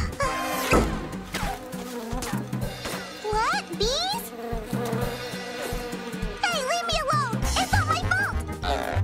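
Buzzing insects, bees in a cartoon for kids, drone on over a busy, loud mix of music and voices, the hum running under cartoon speech and effects throughout.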